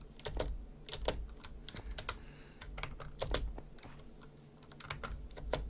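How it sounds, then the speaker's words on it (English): Loud computer keyboard typing, close and dry, with rapid uneven clacks and heavier key strikes, steady for several seconds and with no voice. "your keyboard is so loud. Can you mute yourself when you're typing?"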